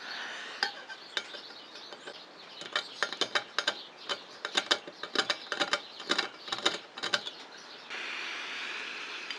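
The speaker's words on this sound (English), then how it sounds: "So do a little bit of filing just to take a tiny amount off" Hand filing on a small silver buckle part gives a run of short, crisp rasping strokes in uneven rhythm, close and fairly quiet, with a faint steady hiss after the strokes stop.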